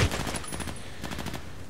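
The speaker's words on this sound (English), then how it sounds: "More single shots here." Rapid single gunshots in the online shooter game Contract Wars on the Parkside map, a steady stream of closely spaced cracks at moderate loudness that fill the short stretch with no talking.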